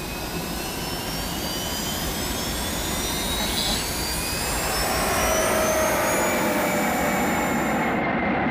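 Airplane jet engines roar at takeoff, a loud sustained whine and rumble that builds gradually, with rising high-pitched turbine tones over a heavy low drone and no speech.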